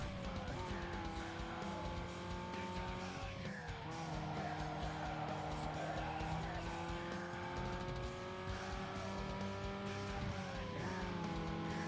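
A car in a video game drives with a steady engine drone and repeated tire squeals and skids as it struggles to turn, loud and continuous throughout with no talk.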